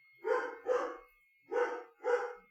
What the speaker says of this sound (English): And I apologize for my barking dog in the background.